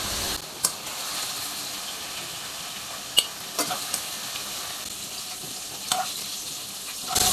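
Fried ash gourd lifted out of hot oil in a pan, a continuous sizzle broken by several sharp metallic clinks of a utensil against the pan.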